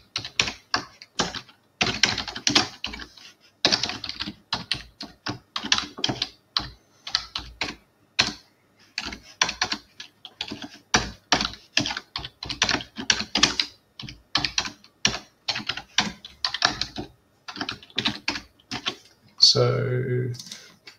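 Continuous keyboard typing in bursts of rapid clicks for about twenty seconds as someone enters a GraphQL query on a computer, with a short low sound at the very end; no one speaks.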